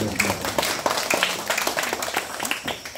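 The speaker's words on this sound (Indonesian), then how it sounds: "Tepuk tangan." Audience applause at a West Papua provincial parliament recess meeting, a dense patter of hand claps running steadily throughout with voices mixed in underneath.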